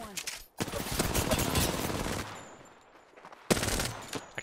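Bursts of rapid gunfire from an Apex Legends-style shooter game, loud rattling volleys with a brief pause in the middle before another burst starts, with a voice talking over the action.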